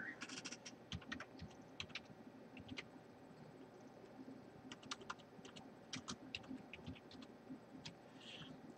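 Someone types on a computer keyboard in quick irregular bursts of clicking keystrokes, close and fairly quiet, with short pauses between the runs.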